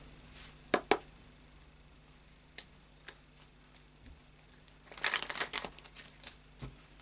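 Moonology oracle cards being shuffled by hand, a couple of sharp snaps early, a few soft isolated ticks, then a brief rapid riffle of cards near the end, close and quiet with no talking.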